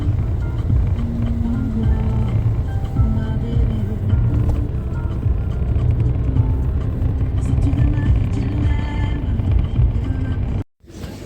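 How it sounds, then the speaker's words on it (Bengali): A BlaBlaCar rideshare car drives along a French road with three people aboard, its steady engine and road rumble droning loudly and continuously from inside the cabin before cutting off abruptly near the end. "তো আমরা তিনজনে এই ব্লাবলা কার নিয়ে এখন যাচ্ছি এই ফ্রান্সের রাস্তা ধরে।"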